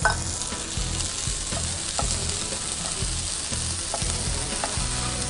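Green peas sizzle steadily in a hot pan, with occasional scraping and stirring knocks, close and continuous, with no talking.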